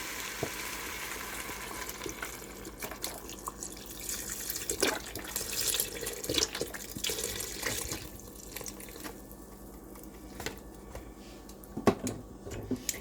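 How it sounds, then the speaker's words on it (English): Beef broth poured from a container into an Instant Pot for beef stroganoff with mushrooms, a steady close liquid trickle and splash with a few sharper clinks, no talking. "now I'm going to put in the container beef broth"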